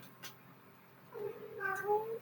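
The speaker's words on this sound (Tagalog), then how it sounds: "Sensya na kayo, maingay talaga yung pusa ko" A house cat gives a single drawn-out meow indoors, fairly faint and close, rising then falling over about a second, with a quiet room hum underneath and no talking.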